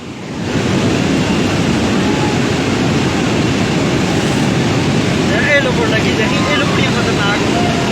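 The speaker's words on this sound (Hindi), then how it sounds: "पुल को आप देख सकते हैं, बिल्कुल पुल के ऊपर से जा रहा है पानी" Floodwater roars over a bridge during a storm in Mansehra, a loud continuous rushing wash with wind buffeting the microphone, steady and close throughout.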